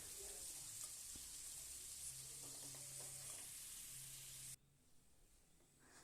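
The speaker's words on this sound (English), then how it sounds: "We are going to fry them until they are golden brown." Onions frying in oil toward golden brown, giving a steady bright sizzle with faint stirring clicks, before the sizzle abruptly drops much quieter near the end.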